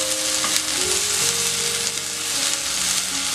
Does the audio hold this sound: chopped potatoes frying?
yes